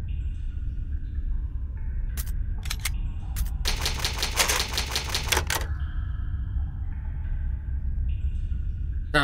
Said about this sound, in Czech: tady je psací stroj, takže bychom mohli začít tím,